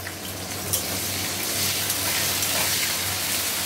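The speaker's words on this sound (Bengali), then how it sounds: "এবার তেলের মধ্যে দিয়ে দিচ্ছি কেটে রাখা রসুনগুলো।" Chopped garlic hits hot oil with a steady broadband sizzle and crackle that runs throughout, along with a low hum, for a Bengali bhola fish bharta that also has potatoes in the pan.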